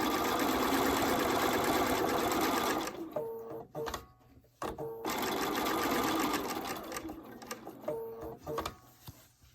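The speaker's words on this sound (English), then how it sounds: "now we're going to sew all the way around the perimeter" A sewing machine stitches around the perimeter of a welted zipper pocket with a loud, steady whirring run that pauses, then restarts in short stop-and-go bursts with small mechanical clicks.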